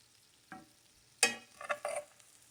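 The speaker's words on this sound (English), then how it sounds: "Just let it saute for a little bit." Chopped cabbage sautéing in a pan, a soft sizzle with a few scattered stirring scrapes and clatters, brief and close, with quiet gaps between.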